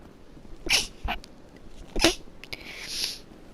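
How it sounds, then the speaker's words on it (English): A person playing a video game lets out a couple of sharp, close sneezes a second or so apart, with breathy catches before them and a soft hiss afterwards, with no talking. "I'm gonna sneeze."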